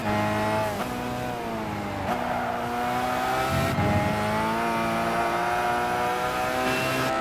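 In Gran Turismo 5, a race car engine revs hard and loud, with its pitch climbing and then dropping at several gear shifts. The engine sound runs alone, with no talking.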